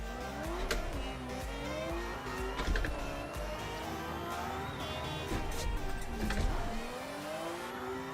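A racing video game car drifts through corners, its engine revving up and down in repeated sweeps with tire squeal and shifting pitch, loud and continuous with no talk.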